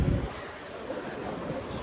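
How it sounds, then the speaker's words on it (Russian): Strong sea surf at a resort beach in Sharm el Sheikh, a steady broadband wash of waves with wind buffeting the microphone, a louder rumble at the very start and no talk. "Тут волны сильные достаточно."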